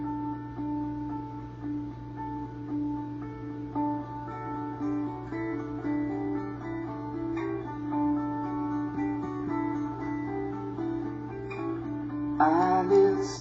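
A recording of a song plays from a computer, a soft, steady acoustic guitar-driven passage with sustained tones over a constant low hum, fairly quiet and even throughout.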